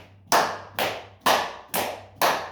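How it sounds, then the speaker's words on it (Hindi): Five sharp, loud hand claps at an even, steady pace, each ringing briefly before the next; close by and alone, with no talking. "ताली भी बजा सकते हैं"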